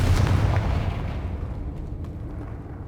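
A fiery Confringo spell blast in Hogwarts Legacy erupts as a deep, booming explosion that rumbles loudly at first, then fades into a lingering low roar with faint crackles.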